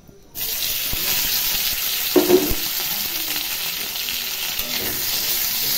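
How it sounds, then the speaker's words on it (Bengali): Potatoes fry in hot oil in a kadai with a close, continuous crackling sizzle, broken by a few stirring scrapes. "এতে আমি আলু ভাজার জন্য 1 চামচা মতো তেল দিয়ে দেবো"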